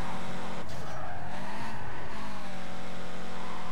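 Roaring car engine and squealing, skidding tires in the racing video game Need for Speed Carbon, loud and continuous, with revving shifts through the whole stretch.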